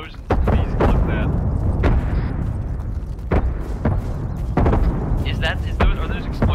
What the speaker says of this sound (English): I hear many explosions.